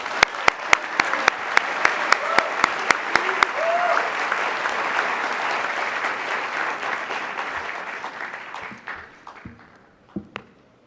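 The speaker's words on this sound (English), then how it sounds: "let's give another round of applause for all of our winners" A ceremony audience applauds the award winners, starting with loud, evenly spaced single claps that give way to a full, sustained round of clapping. It fades out and ends with a couple of scattered late claps.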